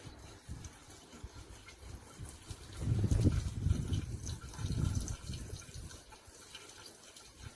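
Water from a container is poured into the cooling system of an abandoned 1986 Toyota Corolla KE70, a gurgling splash that swells in the middle and then eases off, with no one talking.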